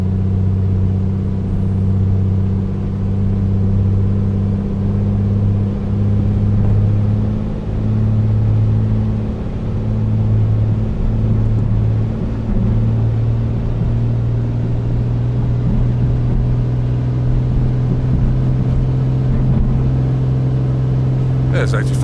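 Piper Comanche 250 engine in a flight simulator holding a loud, steady drone during the takeoff roll, with a constant low hum and strong harmonics throughout and no break or pause.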